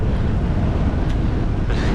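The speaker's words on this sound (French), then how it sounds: "Que du vent de face." Steady, loud headwind buffeting a cyclist's microphone on a long road ride near Chartres, a continuous broadband roar with no talk.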